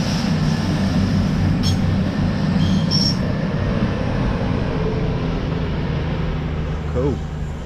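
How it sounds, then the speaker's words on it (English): A Class 222 diesel passenger train running from London St Pancras to Nottingham roars loudly through Wellingborough station, with a steady heavy rumble, brief wheel squeals and a fading tail near the end. "So here we've got a class 222 that's come from London St Pancras and is going through to Nottingham"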